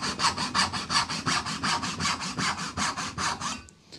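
A Footprint dovetail saw cuts through plywood in a quick, steady rhythm of about fifteen close rasping strokes, each push and pull distinct, ending abruptly near the close with no voices.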